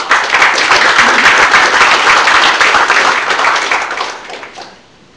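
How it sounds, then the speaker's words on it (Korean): A crowd at a book launch celebration welcomes a guest to the podium with loud, dense applause that holds steady for several seconds, then fades quickly into near silence. "여러분 큰 박수로 맞아주시기 바랍니다"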